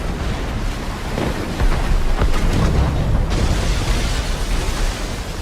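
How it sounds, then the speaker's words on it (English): Muffled cannon fire booms deep within fog in the video game Assassin's Creed Rogue, a few dull blasts at a distance over a steady wash of rumbling sea-like noise. "Cannon fire. Deep within the fog."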